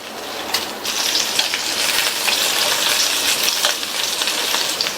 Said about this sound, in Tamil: நல்லா எண்ணெயிலேயே இந்த கத்திரிக்காயை வதக்கிக்கணும்